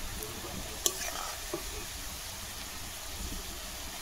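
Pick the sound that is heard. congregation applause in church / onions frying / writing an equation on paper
onions frying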